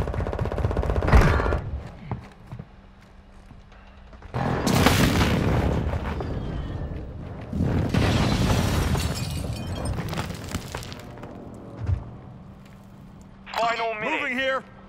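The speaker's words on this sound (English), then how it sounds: "Hostile airstrike near your location." Airstrike explosions and gunfire rumble through a Modern Warfare 2 match, with long, loud bursts of booming blasts and rattling shots separated by quieter gaps, a brief thud near the end and a radio-style game voice at the close.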